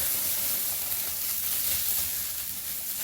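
Potatoes sizzle and fry in a pan as they are stirred, a steady close hiss with faint scraping running unbroken throughout.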